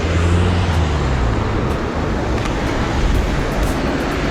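A car passes on a Munich street, its tyre and engine noise a close, steady broadband whoosh with no voices over it.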